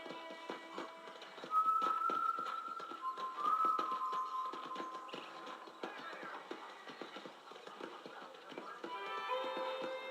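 In the Red Dead Redemption video game, horse hooves clip-clop in a steady, moderately quiet walking rhythm across a ranch, with brief whistle-like tones partway through.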